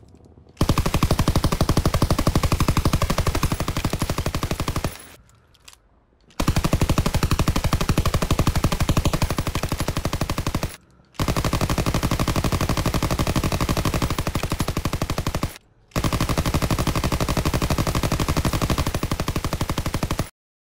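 A PPSH submachine gun fires in a video game in four long, loud, sustained automatic bursts, each several seconds long and separated by short silent pauses.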